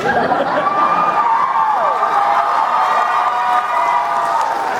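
A convention audience cheering, a dense crowd roar with whoops and scattered laughter filling the room steadily for several seconds.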